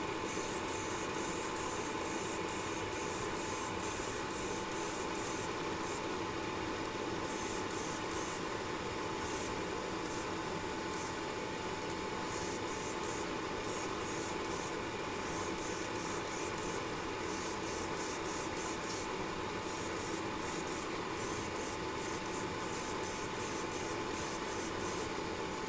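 An airbrush lays a second coat of Vallejo color shift paint with a continuous close hiss that runs unbroken throughout. Faint rapid clicking rises above it at intervals.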